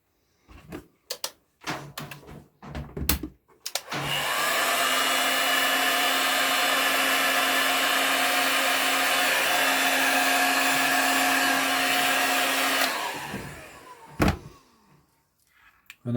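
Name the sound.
heat gun shrinking heat shrink tubing over soldered wires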